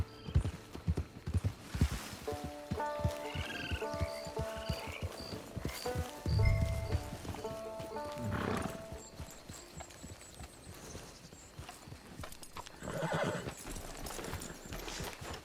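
Horse hooves clip-clop in Red Dead Online, a steady walking rhythm of hoofbeats with a horse whinnying and snorting, layered over game music.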